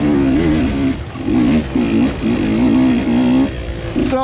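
Husqvarna TE 150 two-stroke dirt bike engine revving hard and steadily with repeated throttle bursts during a hare scramble race, loud and close, with brief dips between pulls.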